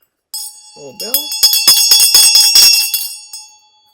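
A small bell used as a sound offering in a Buddhist Chenrezig ritual rings out in a quick run of bright, rapidly repeated strikes whose metallic tone sustains and fades. A few soft tones come just before the ringing.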